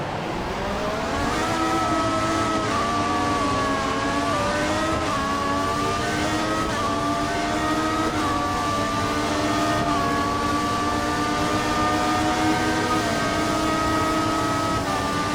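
An F1 car in the F1 2014 racing game roars at high revs through a DRS-assisted overtake, the engine pitch climbing and shifting through gears, loud and continuous with no voices.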